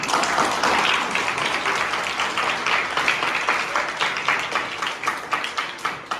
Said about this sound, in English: they are doing a big round of applause to both of them